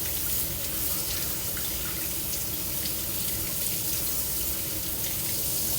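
Vegetables for a Greek horiatiki salad rinsed under a running kitchen tap, a steady close wash of water splashing into the sink with no break for the whole stretch and no talking.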